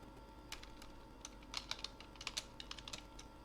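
Quiet keystrokes on a computer keyboard as a keyword is typed, a quick irregular run of soft clicks close by.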